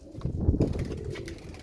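A pigeon coos on a rooftop in a short, close, soft burst of low throaty calls, with no other sounds around it.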